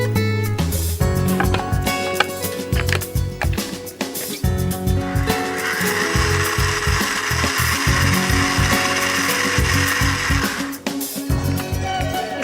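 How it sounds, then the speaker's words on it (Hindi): Electric mixer grinder pulverising fried spices in a kitchen, a continuous loud whirring grind with rough, uneven churning and a steady high whine through the middle, running without pause. "इसे अब हम मिक्सी में पीसेंगे"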